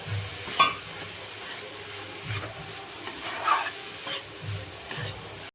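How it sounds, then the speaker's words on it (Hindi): About 250 grams of khoya is heated in a pan for mawa gujiya, with quiet, soft scraping stir strokes recurring every second or so over a faint, steady background hiss. "तो खोया को भी गरम कर लेते हैं थोड़ी सी।"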